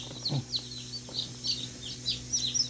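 Newly hatched village chicks fresh from an incubator peep in a run of short, high chirps, several birds calling close by with a brief lower cluck among them.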